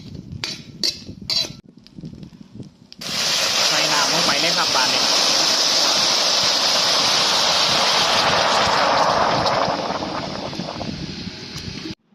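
Tom saep soup of free-range chicken with lemongrass boiling in a pot, a steady, loud rushing hiss that starts about a quarter of the way in after a few sharp clatters and fades slightly near the end.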